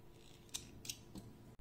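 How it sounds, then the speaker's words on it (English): Scissors snip crochet yarn in a few quick, quiet clicks close to the microphone, three short cuts spaced about a third of a second apart over a faint background hum. "and we are cutting the yarn."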